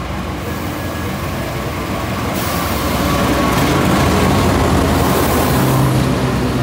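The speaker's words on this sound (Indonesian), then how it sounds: "Kita akan tunggu nanti kereta api Lodaya akan masuk di jalur 1" Steady rumbling roar of the Lodaya passenger train rolling into platform 1 of an Indonesian station, growing louder and closer, with a faint metallic squeal near the end.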